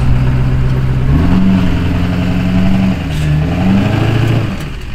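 A lifted, squatted two-wheel-drive Duramax diesel truck pushing around 500 horsepower revs hard climbing a levee, the deep engine note rising and falling in two loud surges before easing near the end.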